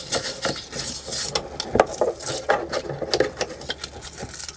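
A cheap toothbrush scrubs the filter gauze of a Flojet caravan water pump, giving quick, irregular scratchy bristle strokes with small taps and rattles, close and fairly loud, with no talk.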